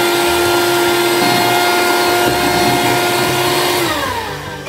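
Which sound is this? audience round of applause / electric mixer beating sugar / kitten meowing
electric mixer beating sugar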